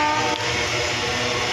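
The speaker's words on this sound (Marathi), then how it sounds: "आणि ही रेल्वे चाललेली आहे." A passenger train rolls past and picks up speed, a steady close rumble layered with a droning mechanical hum, with no voices.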